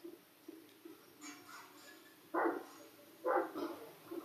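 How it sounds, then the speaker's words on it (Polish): Barking from a dog inside the video game GTA V comes as two short, moderately loud bursts over a quiet game background, with faint softer sounds in between. "To jeszcze jakiś pies jest."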